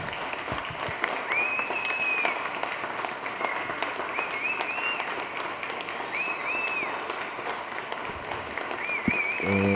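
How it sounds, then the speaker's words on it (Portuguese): A council chamber crowd applauds steadily for a radio broadcaster being honored, a dense, continuous clapping that holds at an even level throughout, with faint whistle-like tones above it. "eu quero uma salva de palmas ao Renato Valim"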